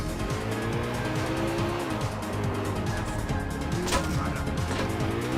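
Pegassi Coquette sports car in GTA IV pulling out of turns in first gear, engine pitch rising and falling through gears with tire squeal, steady driving noise throughout.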